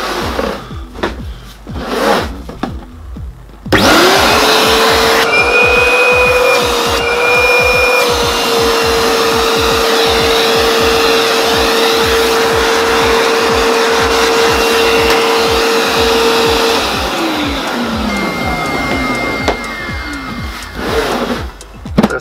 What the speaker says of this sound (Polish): Odkurzacze zawsze podłączane są do zwykłej sieci na 220 V.